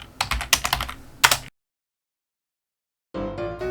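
A computer keyboard is pressed in a quick cluster of close clicks, then falls silent before a brief burst of background sound returns.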